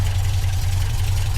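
A 1966 MGB GT engine idles, heard up close under the bonnet, with a loud, steady, low throbbing hum that never changes pace.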